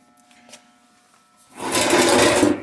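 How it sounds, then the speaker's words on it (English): Sawzall reciprocating saw starts up and cuts into a 1929 Model A car floor panel, a loud, dense buzzing that begins suddenly after a quiet lead-in and runs steadily to the end. "I think I can run my Sawzall right along the back of this"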